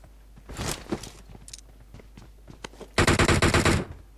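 Gunfire in the PUBG Mobile video game: scattered single shots and footsteps give way to a loud, rapid automatic burst of about a dozen shots near the end.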